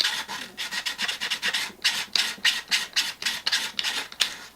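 A file scrapes back and forth over a 3D printed plastic accessory part, smoothing it in quick rhythmic strokes, close and fairly loud, with no talking.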